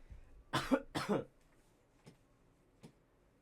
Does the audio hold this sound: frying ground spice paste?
no